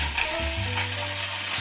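Beef hitting a pan of melted butter, a steady close sizzle with a low humming drone underneath, brief and even in loudness with no talk.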